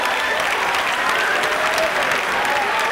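Audience at a live comedy show clapping, a loud, dense and continuous round of applause filling the room with some crowd noise.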